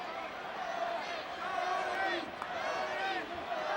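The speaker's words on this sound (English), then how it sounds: "listen to this crowd roar" A pro wrestling arena crowd roars and cheers continuously in the background, with a commentator talking over the noise throughout.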